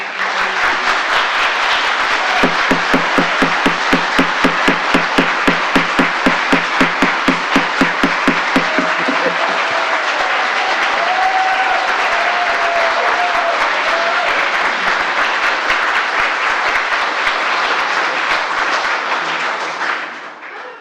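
Applause breaks out at a city council meeting, starting as rhythmic synchronized clapping that quickens, then dissolving into a broad sustained wash of clapping and crowd noise that fades out at the end.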